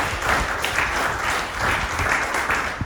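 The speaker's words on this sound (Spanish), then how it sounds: "Démosle un aplauso al Señor" A church congregation claps during a sermon, a full, fairly loud round of applause that swells and eases slightly in waves, without any voices.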